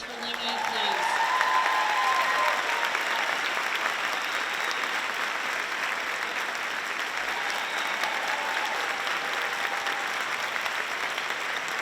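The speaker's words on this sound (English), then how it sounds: "One more round of applause for Lingy, please." A large audience at a school district conference day gives another round of applause, loud dense clapping sustained evenly for about twelve seconds, with brief tonal sounds and faint voices near the start.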